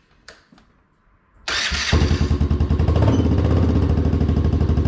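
Can-Am DS90X ATV with a newly replaced starter cranks briefly after a few faint clicks, then its small engine catches and runs with a steady, loud, close putter.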